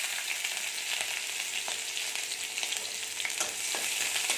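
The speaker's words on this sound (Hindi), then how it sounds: "तापरे रसुण पकईदेवी" Garlic frying in a hot pan after green chillies, for a homemade soybean chilli: a steady, dense sizzle with small crackles and pops, close and fairly loud, with no voices.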